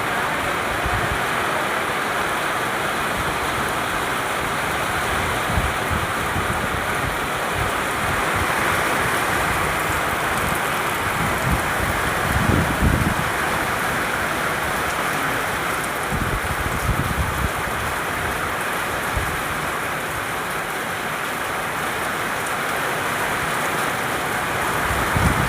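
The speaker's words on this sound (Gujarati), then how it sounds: "જો ગાઈસ, વરસાદ ચાલુ થઈ ગયો છે." A heavy downpour on Janmashtami day roars in a loud, unbroken wash of rain, close and continuous, with low rumbling surges and no talk.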